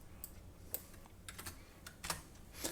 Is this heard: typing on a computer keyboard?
yes